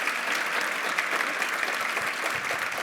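Audience applause for speaker John Powell at the close of a talk, a dense, steady burst of clapping from a crowd filling the room, with no speech over it.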